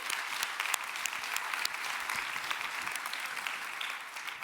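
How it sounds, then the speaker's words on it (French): An audience at a science show at CERN claps steadily for several seconds, a dense patter of applause with no voices. "Un grand honneur d'applaudissements pour nos experts."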